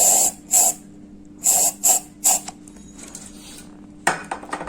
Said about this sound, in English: Now we spray some gas.